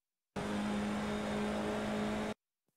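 FIA F4 race car engine held flat out at full throttle at Imola, a loud steady high-revving drone that lasts about two seconds with no gear change, then cuts off abruptly into silence.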